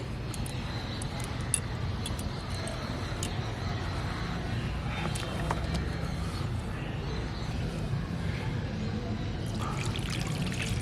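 A liquid homemade natural pesticide mixture poured from a mug into a clean bowl, a soft continuous trickle and faint splashing, quiet and close, with a few light clinks.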